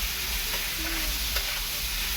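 A steady, dense sizzle of spices frying in a pan, even and continuous throughout with no voices.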